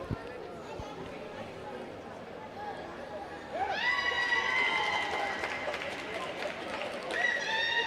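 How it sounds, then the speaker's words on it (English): Teammates cheer and shout from the sidelines of a veterans' individual karate kata on the tatami at a championship in Swakopmund, a loud burst of crowd voices rising midway and holding, with whistle-like calls over steady hall chatter. "Her team members are cheering her on."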